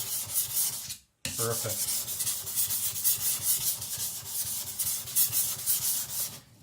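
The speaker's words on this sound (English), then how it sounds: "You don't need to bear down when sharpening, just let the stone do its work." Victorinox Chinese cleaver rubbed with light pressure across a sharpening stone, a steady close scraping rasp in repeated strokes, broken by one brief pause near the start.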